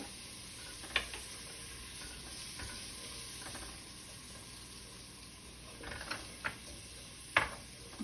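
Curry powder and cinnamon toasting in a pot for curried butternut squash soup with coconut milk, a soft steady sizzle with occasional stirring scrapes and clinks, close and quiet, no talking.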